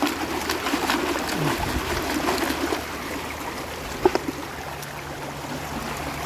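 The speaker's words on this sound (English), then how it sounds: "shake and splash the water around" Water sloshing and trickling through a shaken classifier sieve used for sorting material, a continuous rinsing, streaming sound with a couple of sharper clinks near the end.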